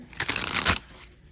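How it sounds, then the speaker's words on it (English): Tarot cards shuffled by hand in one short riffling burst, close and fairly loud, fading out quickly. "I'm shuffling the cards here."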